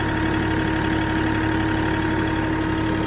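A Massey Ferguson 1835E compact tractor engine runs steadily at a close, even idle with the 540 PTO being engaged, a constant droning hum and no voices.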